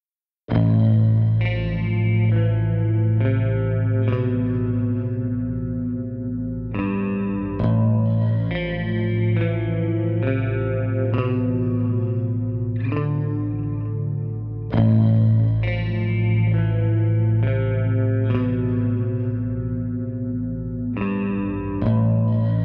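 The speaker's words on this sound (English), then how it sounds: "Let's hear what the guitar sounds like in a full mix using clean, rhythm, and lead tones." An Ibanez RGDIX7MPB seven-string electric guitar plays in a full band mix, moving through clean, rhythm and lead tones with effects-laden, distorted chords struck in a steady rhythm, loud and continuous.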